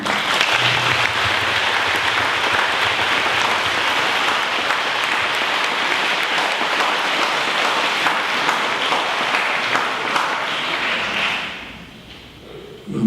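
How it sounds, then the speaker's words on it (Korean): Steady, full applause from a congregation at a Catholic blessing Mass in an arts centre, sustained for about eleven seconds before fading out. "박수 한번."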